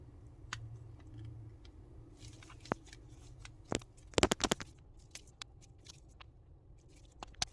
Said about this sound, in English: So I'm using my trimmer here.